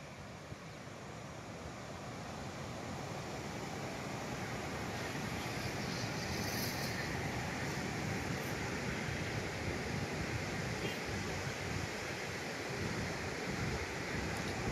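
Water pours through the open gates of Terna dam as a dense, unbroken roar, loud and constant with no pauses, heard alone without any talk.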